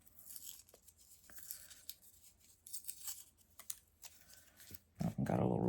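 Thick paper cutouts peeled from their backing, with soft tearing and crinkling rips in irregular bursts close by, then a louder rustle at the end.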